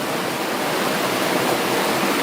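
River water rushes steadily through a small channel, a dense, even hiss with no pauses and no voices.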